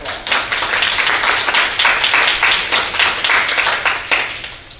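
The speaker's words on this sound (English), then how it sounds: "So let's give them a round of applause." A steady, fairly loud round of clapping from attendees at a county board meeting fills the room for several seconds, with dense overlapping claps and barely any talk.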